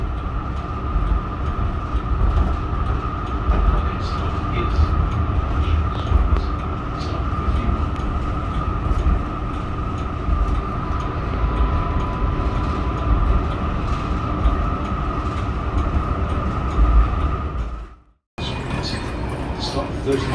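A Yarra Trams B2 class tram runs through Melbourne, a loud, steady rumble of motors and wheels with a sustained hum, briefly cutting out near the end before resuming, and speech appears to mix in.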